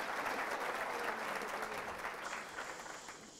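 Faint, distant applause from a seated audience at a leadership talk, a steady wash of many hands that slowly softens toward the end.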